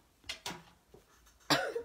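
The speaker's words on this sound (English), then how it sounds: "Always sneeze on camera." Several short explosive bursts from one person, a sneeze with throat noises, the last burst loudest, heard close up in a quiet room.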